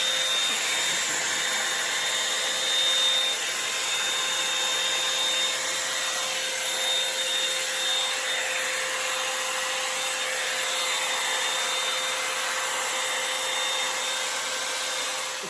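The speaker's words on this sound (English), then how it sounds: "We'll go up to high real quick so you can hear the volume on that" Flower ceramic hot air brush running on its high setting, a steady loud whooshing motor drone with a faint high whine that holds constant throughout.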